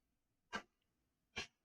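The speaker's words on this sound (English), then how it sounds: "that's my dog. He's making noise." Dog in a room giving two short, faint, breathy huffs or snorts about a second apart, quiet against near silence.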